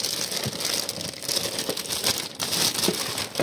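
Plastic packaging around a new air intake hose for a Mercedes B-Class W246 being opened, with continuous close crinkling and rustling and a few sharper crackles.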